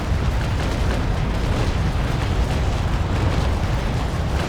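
Ship cannons fire grapeshot in bracket fire during a naval video game battle, a loud, dense, continuous booming roar with no let-up.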